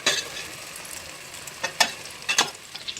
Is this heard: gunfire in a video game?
no